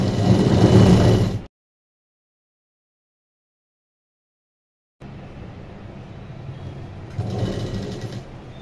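A sewing machine stitches a kurti in two runs. The first is a loud, steady motor whir of about 1.5 seconds. After a long silent gap comes a longer, quieter stretch of running that swells again near the end.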